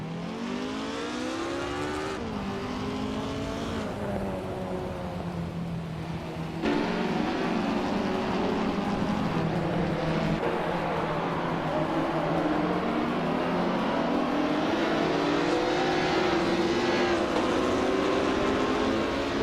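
Race cars, a mix of prototypes and vintage ultralights, roar through the tight corners of the Long Beach street circuit in a racing video game, several engines overlapping with continuous whining pitch sweeps as they brake and accelerate, loud and without talk.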